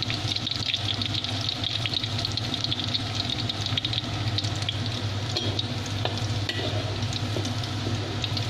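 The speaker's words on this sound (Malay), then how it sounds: "bila minyak dah panas, kita masukkan bawang putih" Garlic fries in hot oil in a pan for a spicy long bean dish, making a steady, moderately quiet sizzle with faint stirring clicks throughout.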